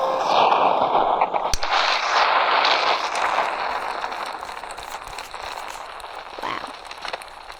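An Ultra Bomb detonates in the Melon Playground video game, a loud broad crackling blast that sustains and then slowly fades into a rumbling, debris-like tail.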